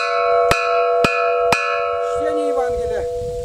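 Three sharp strikes on a bell rung by children in Poteryaevka village, evenly spaced and close, with a long shimmering ring that lingers as quiet voices come in underneath.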